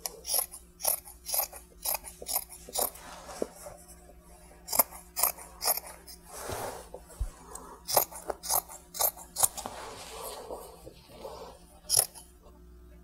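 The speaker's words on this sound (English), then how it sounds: "now we're going to cut the t-shirt into strips" Scissors snipping through a cotton t-shirt to cut it into strips, sharp crisp cuts in irregular bursts with short pauses between, close and clear over faint background hum.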